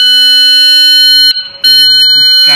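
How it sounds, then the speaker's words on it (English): A Furuno BR-500 bridge navigational watch alarm sounds its first-stage alarm: a loud, piercing electronic tone held steadily, breaking off for a moment before resuming, with faint rustling near the end. "that is the first stage alarm"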